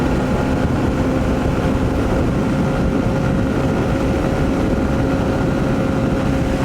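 Honda CB125F motorcycle with a 120cc fuel-injected engine cruising at about 100 km/h, a steady droning engine hum mixed with loud continuous wind rush, no speech.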